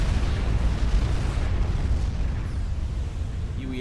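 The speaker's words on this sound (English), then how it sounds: "UEF nuke hits home" A UEF nuclear missile detonating in the Supreme Commander strategy game, a sustained dense rumbling roar that stays loud and even throughout with no talking.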